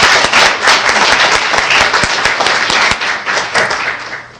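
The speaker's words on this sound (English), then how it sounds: "let's have a big round of applause for those who put service above self" Loud, sustained applause from an audience at a Rotary Club speech contest in a high school, dense clapping with a few sharper claps standing out, fading slightly toward the end.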